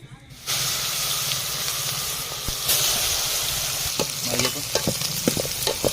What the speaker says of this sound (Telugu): ఈ వట్టి తణుకులు అయితే ఇంకా ముందుగా అయితే ఇంకా ఆయిల్లో బాగా ఫ్రై చేసుకోవాలండి